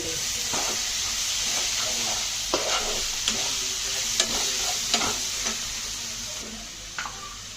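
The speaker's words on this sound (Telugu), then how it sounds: "పది నిమిషాలు బాగా వేగిందండి" A masala egg fry sizzles steadily in a pan after about ten minutes of frying, while a spatula scrapes and clicks against the metal at irregular intervals close by, and no one speaks.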